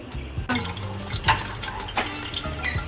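About one and a half cups of cooking oil pour into a pot for chicken biryani, a close continuous liquid glugging and trickling with a few splashy surges over low kitchen hum.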